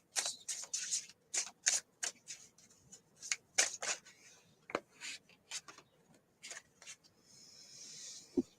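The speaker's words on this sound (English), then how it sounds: "That's me shuffling the cards." Tarot cards shuffled by hand in bursts of crisp papery riffles and slides, close and fairly quiet, with irregular pauses between shuffles and a soft sustained rustle near the end.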